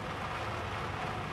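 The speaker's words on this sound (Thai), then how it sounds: "เออเสียงฝนตกก็ได้ยิน ตกดังแปะแปะแปะแปะแปะ" Steady rain falling in the video game Star Citizen, a dense even patter with no pauses, moderately loud and heard alone.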